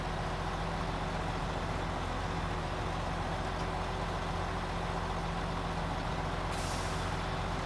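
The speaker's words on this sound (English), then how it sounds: "See a truck to the left there." In a video game, a truck with air brakes runs with a dense, steady engine rumble and broadband hiss that persists throughout, and a brighter hiss appears near the end.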